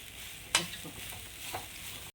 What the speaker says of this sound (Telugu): ఫస్ట్ మనం కొబ్బరిని గీ వేసుకొని లైట్గా దూరగా వేయించుకోవాలన్నమాట